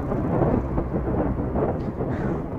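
Light drizzle with low rumbling thunder in an outdoor street setting in Banda Aceh, a steady soft wash of rain noise under a continuous deep rolling rumble.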